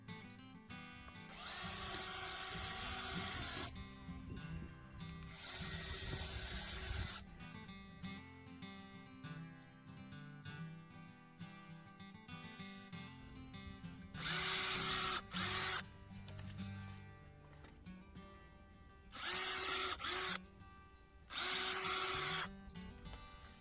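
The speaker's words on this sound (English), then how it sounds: "Let's start drilling some holes in the bottom of your basket." A power drill bores holes through the bottom of a homemade potato-growing basket, running in several loud bursts of a few seconds each with quieter pauses between.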